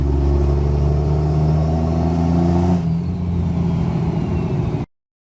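A Cummins diesel truck engine drones steadily while driving, with heavy low rumble and layered harmonic tones that shift midway as the engine note changes, then cuts off abruptly.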